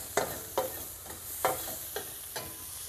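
Cheesesteak filling is stirred in a hot pan, with a quiet, steady sizzle broken by about six soft scraping strokes at an irregular pace.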